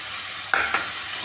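Chopped red tomatoes and green chillies drop into hot oil with spices, giving a sudden loud sizzle and a second sizzling burst as they are stirred, close by and without speech.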